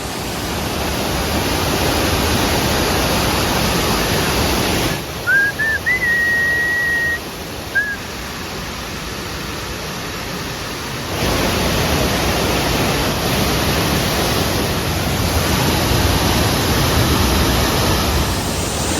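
A waterfall near Paderu roars as a loud, continuous broadband rush, with a short whistle-like tone rising briefly in the middle and the flow swelling and easing slightly over time.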